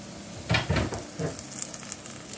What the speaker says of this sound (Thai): จากที่ว่าเฮาต้มแล้วกะเฮากะผัดต่อไปอีกจักหน่อยนึงนะจ๊ะ